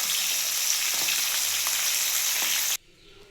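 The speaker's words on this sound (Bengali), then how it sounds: "এইভাবেই আমি সব মাছগুলো ভেজে নেব" Pomfret fish fry in hot oil with a steady, loud hiss and crackle that runs unbroken, then cuts off sharply near the end, leaving quiet room sound.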